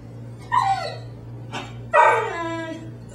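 A dog lets out two high, drawn-out whining yelps with a short bark-like burst between them, close by over a low steady hum.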